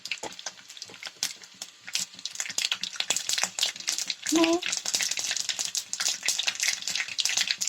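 Small crackles and pops of mustard seeds in hot oil while making gooseberry pickle, scattered and irregular throughout, with a brief voice partway through.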